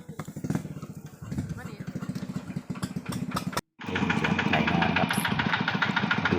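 A farm tractor engine chugs and idles nearby with a rough, knocking rhythm, cutting out briefly before revving back louder and steady as it is loaded onto a pickup truck; voices speak over it.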